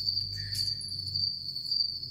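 Crickets keep up a thin, continuous high chirping trill at low volume against a quiet background, with faint low rumble underneath.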